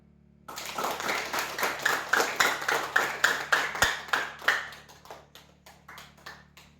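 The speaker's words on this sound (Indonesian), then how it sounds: "Kita beri apresiasi untuk teman kita, tepuk tangan." A classroom of students claps together for a classmate in a Christian religious education lesson: a run of sharp, rhythmic hand claps that starts abruptly, holds a steady beat for several seconds, then thins out and fades.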